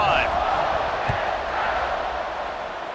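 Stadium crowd noise in the EA Sports College Football 26 video game after a touchdown drive, a steady loud roar of cheering filling the scene without letup.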